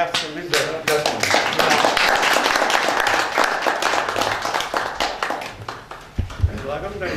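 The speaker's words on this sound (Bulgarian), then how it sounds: "Аз предлагам да попляскаме за ръкопляскаме." Applause from an audience at a commemorative literary event, a dense, steady patter of many hands clapping throughout, fading slightly toward the end.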